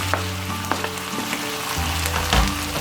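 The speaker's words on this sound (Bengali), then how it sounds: "এক চা চামচ পরিমাণ রসুন বাটা দিয়ে এটাকে ভালো মতো নেড়ে নিতে হবে" Garlic paste and chopped tomatoes sizzle steadily in a pan for salmon head curry, with scraping stir strokes and a louder burst of frying near the end.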